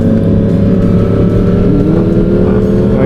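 Engine of a 2012 Yamaha MT-series motorcycle ridden as a street stunt bike, a loud close, continuous roar with rising and falling revs and no pauses.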